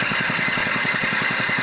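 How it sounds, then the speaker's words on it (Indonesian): A 5.5 HP Chinese-brand small engine idles while driving a turbine aerator, a steady close putter of even rapid pulses under a constant mechanical whine. "Ini mesin dalam keadaan hidup."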